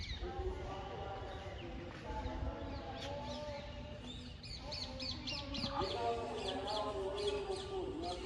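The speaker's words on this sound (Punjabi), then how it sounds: "ਬਾਬਿਆਂ ਨੇ ਇੱਥੇ ਸਾਰੇ ਪੰਛੀ ਰੱਖੇ ਹੋਏ ਆ ਚਿੜੀਆਂ ਰੱਖੀਆਂ" Sparrows chirp repeatedly in quick bursts over a steady outdoor background hum at Gurdwara Baba Rumi Sahib, with faint voices and other bird calls mixed in.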